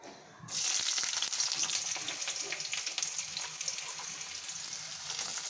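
Chopped garlic and onion hit hot white oil for an egg bhujia curry, a strong steady sizzle starting abruptly after a brief quieter moment and continuing loud and close throughout.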